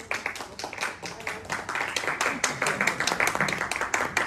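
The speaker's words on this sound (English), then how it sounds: "Everybody on side A clap" A theatre audience at a comedy hypnotist show on the Grand Pier claps on cue, a dense, busy patter of many hands that is fairly thin and scattered rather than thunderous, with some voices mixed in.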